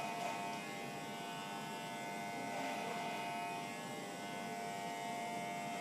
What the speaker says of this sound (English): clipper over comb, taking the hair a little shorter